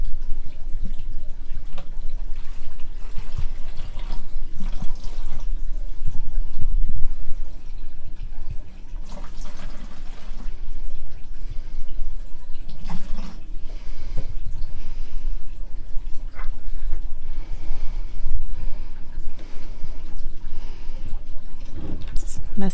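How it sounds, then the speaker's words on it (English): Tap water pouring into a 2-gallon container mixed with iron, a steady close rushing fill running throughout, with a person talking over it. "We're going to fill this up with water."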